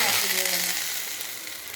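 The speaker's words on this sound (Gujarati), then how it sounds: "આ રાઈ ડુંગળીનો વઘાર કરેલો ને ચોખ્ખા ઘીની અંદર આ ઉપર એ નાખો" Hot ghee tempering of mustard seeds and onion is poured over cooked dhokli, giving a close, bright sizzle that fades steadily over a couple of seconds.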